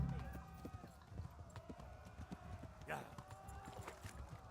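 Quick, steady clip-clop of horse hooves at a gallop in the video game Kingdom Come: Deliverance, with a brief whinny midway, heard under ongoing game audio.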